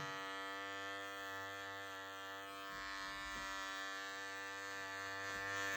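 Electric hair clipper used on a hairpiece fitting, running with a steady harmonic buzz that drones like an old ferry motor, constant and close with no talk.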